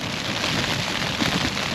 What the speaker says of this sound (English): It's now raining quite heavy